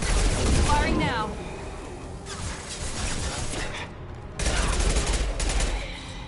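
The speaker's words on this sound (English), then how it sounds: "Firing now." Gunfire in the video game Mass Effect 2 Legendary Edition, loud bursts of shots in two main volleys separated by a quieter stretch, with voices talking over the fighting.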